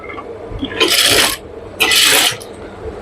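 Sewing machine stitching single-colour poplin fabric for pajama trousers, two separate bursts of fast whirring stitching about a second each with a quiet pause between, close and fairly loud, no talking.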